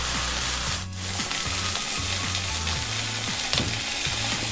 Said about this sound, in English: So I've got a slice of beef tomato I'm going to put on, get that cooking.